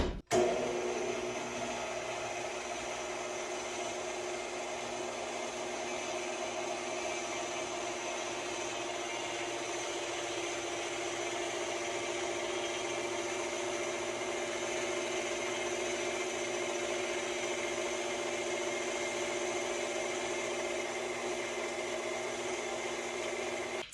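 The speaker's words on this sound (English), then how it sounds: "I'm gonna use the attachments for the KitchenAid." A KitchenAid stand mixer with a pasta cutter attachment runs steadily, a constant close motor whine and hum that holds unchanged for the whole stretch after a brief start-up, with no talking.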